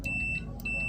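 A multimeter set to continuity mode gives a steady high electronic beep, sounding twice with a brief gap between, close by over a low background hum while testing a water heater's parts.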